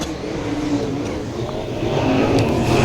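Sprint cars roar off at the green flag during a USAC Southwest Sprint Series race at Canyon Speedway, a dense engine drone that swells louder toward the end.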